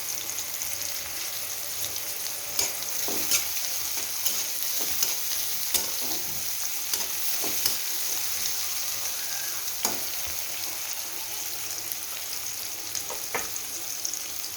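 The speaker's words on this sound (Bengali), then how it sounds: "রান্নাতে আমি সবসময় তেলের উপরে আগে একটু পেঁয়াজটা ভেজে নিই" Onion frying in oil in a pan for a Bengali pangas fish rezala, a constant close sizzle broken by clicks and scrapes of a spatula stirring.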